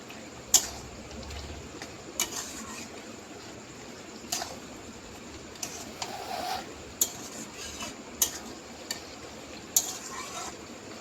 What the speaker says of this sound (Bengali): এখন কিছুটা নেড়ে নেড়ে বেশ শুকনো শুকনো করে নিতে হবে